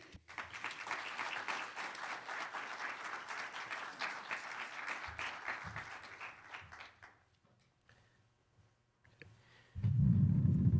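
Warm audience applause welcoming a keynote speaker at a law review event, steady clapping from a seated crowd lasting several seconds before fading out, followed by a low thump near the end.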